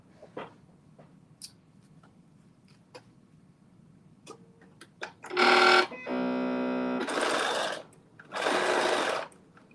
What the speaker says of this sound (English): I'm going to do a straight stitch down.